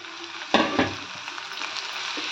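Chopped tomatoes, four of them, hit hot oil and sauté in a pan for an egg gravy, a loud burst of sizzling followed by steady frying hiss and a few stirring scrapes.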